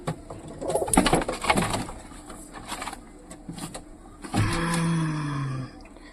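Pigeons coo softly nearby, with fluttering and scuffling, then a louder close coo near the end.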